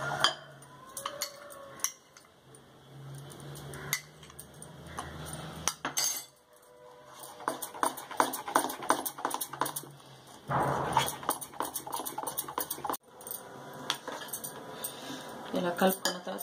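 A spoon stirs food colour into boondi batter in a bowl, making close clinks and scrapes against the bowl in uneven bursts, with a voice speaking between them.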